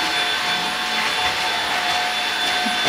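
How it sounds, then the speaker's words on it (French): A vacuum cleaner runs steadily in a home bedroom during cleaning, a loud, constant whirring roar with a high whine that holds at an even level throughout, with no talk over it. "elle passe l'aspirateur pour une fois qu'elle fait le ménage"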